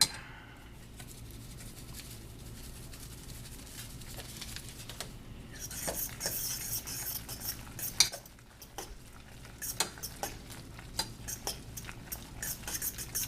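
A fork stirs lumpy cheese sauce made with powdered cheese for mac and cheese, scraping and clinking against the dish in an irregular series of close, moderately loud strokes, with no talking.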